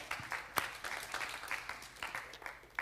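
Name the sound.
round of applause for participants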